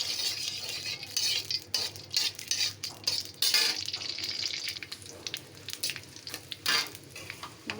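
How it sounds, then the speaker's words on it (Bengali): Dry red chillies sizzle in hot oil as a tempering for cooked greens, with a steady crackling fry and occasional stirring and utensil clinks close by, and no talking. "শুকনো মরিচ দিয়ে দিলাম"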